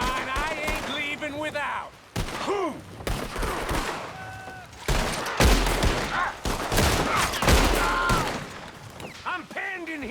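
Sustained gunfire in a Red Dead game shootout, with repeated sharp shots and bursts through most of the stretch, loud and close, mixed with shouting voices and tonal calls.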